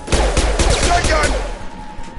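Shotgun blasts in a Mass Effect 2 combat scene, several loud booming shots in rapid succession amid chaotic battle noise, with a voice shouting over the fire.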